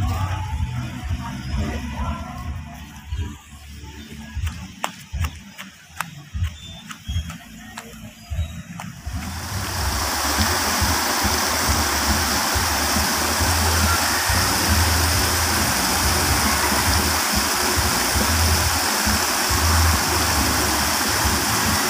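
Small waterfall and stream feeding fish ponds at a rice-terrace tourist park, a steady close rush of water that takes over after scattered handling noises in the first seconds.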